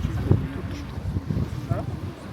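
Steady wind buffeting the microphone outdoors by the sea, with low rumbling gusts under a voice talking nearby.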